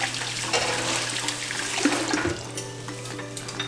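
Tap water runs steadily into a kitchen sink as food is rinsed under it for pho, a continuous close gush of splashing with some shifting as the food moves in the stream.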